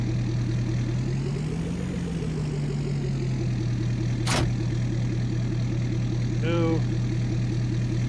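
Truck engine running steadily in a farming video game on a Susquehanna River Valley map, a loud continuous drone with a slight pitch rise, a sharp click partway through, and a brief spoken word over it.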